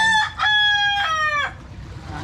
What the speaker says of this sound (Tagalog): Ingay ng manok namin.